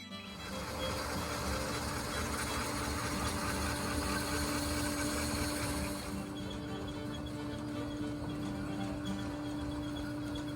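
A cotton gin machine hums and whirs steadily as it separates seed from lint, with a constant mechanical drone, tonal whine and rattling, the noise shifting slightly partway through.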